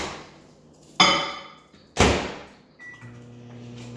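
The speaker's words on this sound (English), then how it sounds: "So I'm just gonna do it in the microwave." A microwave oven heating milk on its beverage setting, with two loud door or latch clunks, one at one second and one at two seconds, then a steady low hum as the oven runs.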